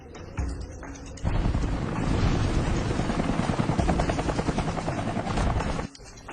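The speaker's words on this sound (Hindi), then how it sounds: "ये हेलीकॉप्टर पे कौन है और ये मेरी जमीन पर क्या कर रहा है?" A helicopter flies overhead above open land, a steady rapid rotor chop that starts abruptly, stays loud and close for several seconds, then cuts off, with no talking.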